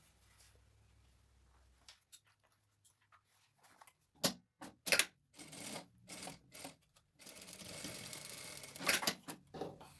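Sewing machine stitching a denim jeans bag made from scraps, with quiet handling at first, then bursts of rapid mechanical chattering, short runs giving way to a longer continuous stitch, close up.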